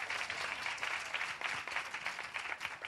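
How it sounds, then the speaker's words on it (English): A church congregation breaks into sustained applause, dense overlapping clapping filling the room at an even level throughout. "Let's give the Lord a great round of applause for that."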